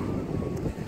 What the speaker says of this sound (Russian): Сегодня сильный ветер